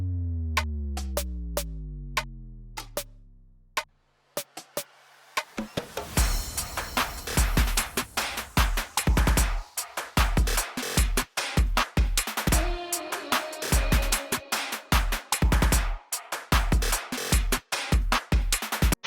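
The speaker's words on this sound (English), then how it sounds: "I have some phrases vocal from the sample pack Omnivox 2, you can hear. And that's how it sounds without the other sounds and just the drums." A rising electronic sweep with bass drops leads into punchy drums, with clipped vocal phrases from the Omnivox 2 sample pack cutting in and out over a steady, loud beat.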